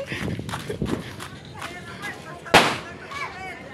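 A single sharp firecracker bang pops out amid lively New Year celebration chatter and shouting, with scattered thuds and crackles in the background.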